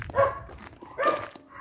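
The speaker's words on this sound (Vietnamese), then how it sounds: "chú chó nó ở đây này" Dog barking at a house in a rural Vietnamese garden: two short, mid-distance bark bursts about a second apart over light background noise, with no talk.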